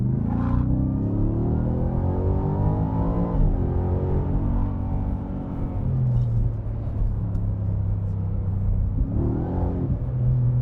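A 2025 Ford F-150 Raptor R with a supercharged 5.2L V8 pulls steadily under acceleration in standard drive mode, a loud continuous engine drone rising through gears with a brief shift dip, heard from inside the cab.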